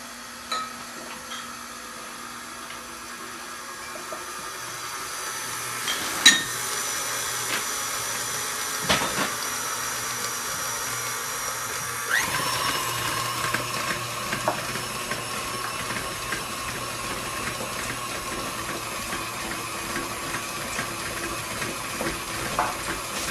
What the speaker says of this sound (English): Again, I'm going to mix for about a minute.